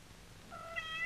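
A single rising cat meow sounds in a kitchen. It comes at moderate volume over a steady room hum, and nobody speaks.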